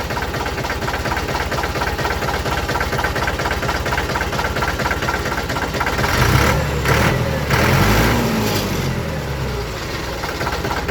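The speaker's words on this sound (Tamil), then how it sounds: "இன்ஜின் பிடிக்குது." A Mahindra 595 Turbo tractor's steady, rumbling engine idles with a regular knocking pulse, then grows louder and rougher for a few seconds before settling back.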